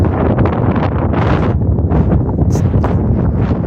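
Strong seaside wind in Baku buffets the microphone in loud, rumbling gusts, rising and falling without pause.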